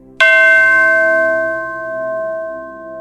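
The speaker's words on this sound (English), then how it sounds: "Then suddenly, ding!" A single bell ding strikes sharply and then rings on with a clear sustained tone that slowly fades, close and alone with no voices.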